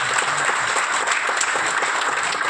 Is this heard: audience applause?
yes